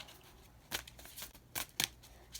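Tarot cards being shuffled by hand, several crisp riffling bursts with short pauses between, close and fairly quiet.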